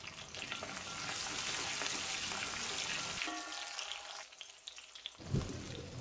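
Shallots, garlic and curry leaves fry in hot oil, a dense, rain-like crackling sizzle held close and steady, thinning out near the end with one brief louder knock.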